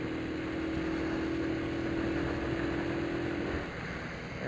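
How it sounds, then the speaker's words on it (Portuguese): A small 150cc motorcycle carrying two riders cruises along a straight road, its engine holding a steady drone with a constant tonal hum under wind rush, easing slightly near the end. "Essa motinho anda super bem, na reta."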